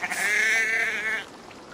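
In the video game Assassin's Creed Valhalla, a single sheep lets out one clear, close, wavering bleat lasting about a second, which then fades into quiet.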